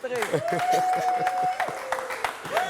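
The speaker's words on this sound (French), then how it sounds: "On va applaudir pour mon invité, s'il vous plaît." Studio audience on a French TV talk show claps for a guest, a scattered patter of hands heard beneath someone talking and a held, sung-like voice tone over it.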